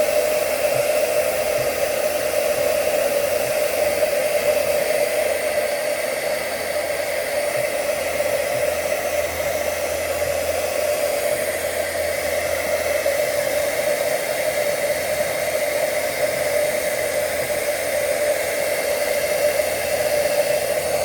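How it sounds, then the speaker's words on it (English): A hair dryer blows steadily and continuously for a long stretch, a constant whirring hum with airy hiss, close and unchanging. "here's why I use a hair dryer"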